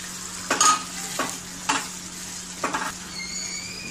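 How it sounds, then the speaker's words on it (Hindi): Kaju curry with butter and crushed roasted kasuri methi is stirred in a pan. Four distinct scraping strokes of a spoon sound close and fairly loud over a faint background sizzle, with quiet pauses between them. "अच्छे से मिक्स कर लेंगे हम इसे"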